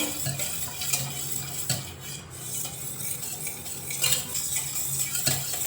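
Batter for paddu cakes, made with wheat flour and powdered sugar, is stirred in a bowl, giving a steady scraping and clinking of a spoon against the dish, with a few sharper knocks along the way.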